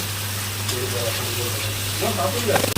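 Spiced masala sizzles steadily in a pan as a splash of water goes in over taro pieces for a vegetarian taro and chickpea curry, a broad hiss with a low hum beneath and a brief bubbling burst near the end.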